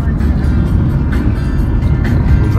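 A taxi drives through Volgograd, with a steady, fairly loud low engine and road rumble from inside the cab throughout, and no talking.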